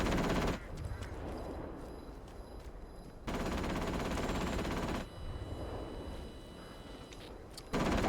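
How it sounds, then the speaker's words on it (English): Bursts of automatic gunfire in Atomfall, fairly loud and sustained in two long volleys with a short gap between them, over background rumble. "I don't know what that guy's shooting at."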